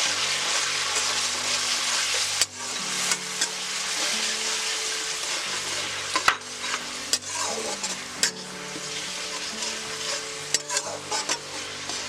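Tomato paste is stirred into frying cabbage in a vegetarian curry. A continuous close sizzle carries repeated scraping strokes of a spoon against the pan, with no talking.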